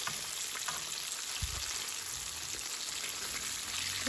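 Chicken pieces frying in hot oil for crispy fried chicken make a steady, close, even sizzle that runs throughout with no one talking.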